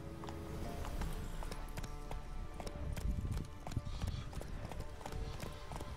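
Horse hooves clip-clopping in The Witcher video game, a fast steady galloping patter with occasional snorts, close and continuous under faint game ambience.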